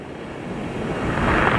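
Ocean surf breaks over a reef as churning whitewater, a steady broadband rushing wash that swells louder toward the end, with some wind buffeting the microphone.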